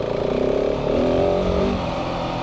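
A 2024 KTM 690 Enduro R motorcycle engine on a first ride, a close, steady droning hum whose pitch rises briefly with the throttle before easing back.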